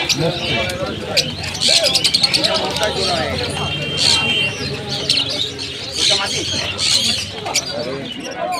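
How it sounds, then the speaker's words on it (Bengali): Lakha pigeons coo at a busy bird market, soft repeated coos mixed with chirps from other birds and bursts of crowd noise, while people talk close by. "লাক্ষা পায়রা না?"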